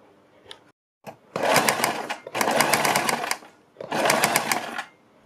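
Sewing machine stitching a kurti neckline, three bursts of fast rapid needle chatter, each about a second long and close by, separated by short pauses and small handling clicks.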